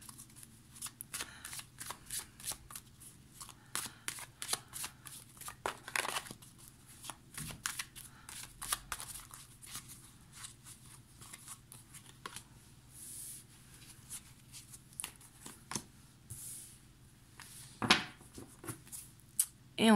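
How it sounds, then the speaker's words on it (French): Tarot cards shuffled and drawn, a long run of quick crisp riffles and flicks, close and quiet, with no talk. "Hop, je vais prendre 2 cartes."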